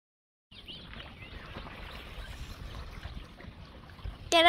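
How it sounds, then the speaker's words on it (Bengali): A small wooden country boat moves across a rainy-season wetland, giving a soft, steady wash of water with faint bird chirps and trickling, ending in a sudden louder burst. "ভালো মতন এবার আমরা নৌকাটাকে চালিয়ে দেখবো নৌকাটা কিরকম চলছে"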